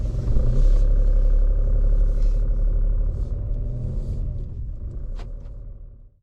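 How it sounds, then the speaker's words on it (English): A car drives along a narrow road in Germany, its engine rumble loud and close from inside the cabin, steady at first and then gradually easing off, with a few light clatters toward the end. "Driving on the roads in Germany"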